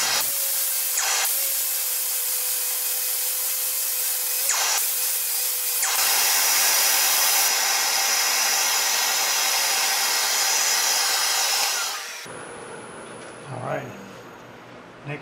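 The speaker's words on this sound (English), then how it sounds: "So I'm gonna start off with a palm sander." Palm sander working a wooden starship model, giving a steady loud buzzing hiss that runs almost throughout before dropping to quieter handling noise at the end.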